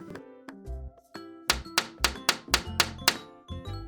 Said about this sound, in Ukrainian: а хто це стукає до мене у вікно?